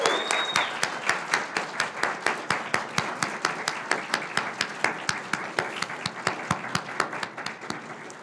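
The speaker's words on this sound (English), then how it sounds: "a round of applause for our amazing graduates." Audience applause for graduates at a hooding ceremony, a steady stretch of rhythmic group clapping with sharp individual claps standing out, sustained at an even level throughout.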